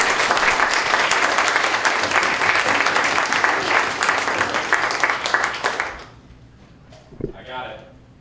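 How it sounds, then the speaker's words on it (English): Loud crowd applause for about six seconds, then it dies away abruptly, leaving quiet room tone and a brief voice. "Can we get a round of applause for Lorinda, everybody?"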